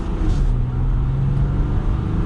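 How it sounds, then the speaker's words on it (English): A 2022 Ram 1500 Limited pickup truck accelerates with a steady, low engine drone and road rumble, heard from inside the cab and holding loud and even for a couple of seconds. "let's give it a little bit of gas here"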